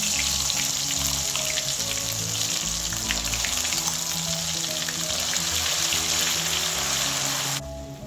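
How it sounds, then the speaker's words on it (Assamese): Ginger, garlic and onion paste fries in oil in a pan, a loud, dense, continuous sizzle with crackling spatter, close by and steady until it drops slightly at the very end. "পিঁয়াজটো ভালকৈ ভাজি হ'ব লাগিব, নহ'লে কেঁচা কেঁচা লাগিব"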